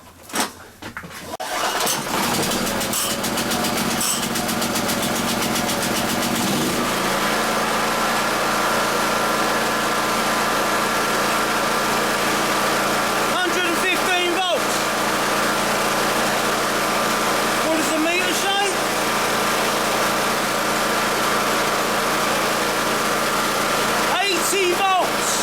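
A portable generator engine starts on choke and settles into a loud, steady running drone that continues without a break, with a person talking over it now and then.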